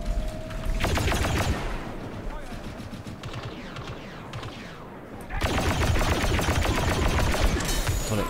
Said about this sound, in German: Tolle, tolle Schüsse, Tim.